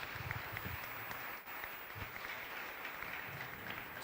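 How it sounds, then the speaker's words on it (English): Soft, distant applause from an audience at an entrepreneurship development program session after a product demo, a faint steady patter of clapping. "Let's give them an applause for the product demo."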